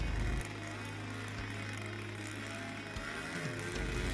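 A paramotor engine runs loud and steady, close by and outdoors in strong wind at a paragliding gathering, with a buzzing drone that surges briefly in pitch a few times as it is throttled.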